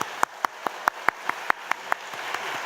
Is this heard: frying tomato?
no